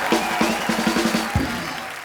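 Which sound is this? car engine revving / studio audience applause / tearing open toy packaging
studio audience applause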